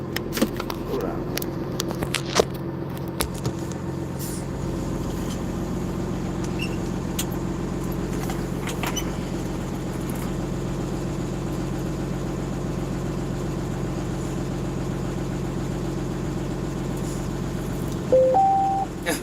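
A truck engine idles with a steady low rumble throughout, close and continuous, with a few small clicks and a brief rattle near the end.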